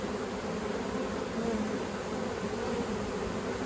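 A honeybee swarm, the fourth caught that year, files into a hive with a dense, continuous buzz of many bees. The drone is close and steady, with no pauses.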